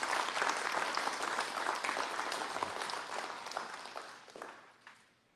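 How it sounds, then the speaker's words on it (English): A dense round of audience applause at a KGIC information night with Paul Martin rolls steadily, then tapers off and fades out over roughly five seconds. "So big round of applause to"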